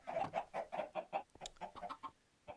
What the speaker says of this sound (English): I got a little chicken farm happening here